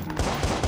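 A short, loud spurt of rapid gunfire from the video game Watch Dogs, a few quick shots packed together over a dense background.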